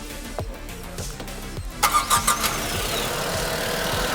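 A Tata Nexon iCNG 1.2 litre turbo engine, bonnet open, cranks and catches with a few quick pulses, then settles into a steady, fairly loud idle hum.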